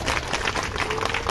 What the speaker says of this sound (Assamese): সকলোৱে কথা হাত চাপৰি বজাব লাগে।